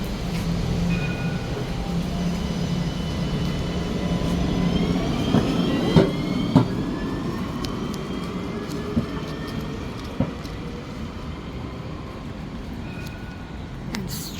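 A Line 2 tram in Nice rolls along with a steady rumble, faint wheel squeals and occasional clacks and knocks over the rails, heard from on board.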